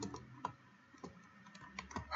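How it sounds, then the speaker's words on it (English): Quiet, uneven typing on a computer keyboard, with scattered key clicks arriving in small irregular bursts and short pauses between them, close and fairly faint. "I'm not having such a good typing there, am I?"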